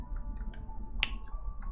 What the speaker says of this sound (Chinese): 响指